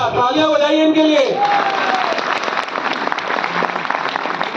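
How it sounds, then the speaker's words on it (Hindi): An audience breaks into applause after a man's brief spoken call, building into a dense, steady wash of many hands clapping that carries on to the end. "तालियां बजाइए इनके लिए"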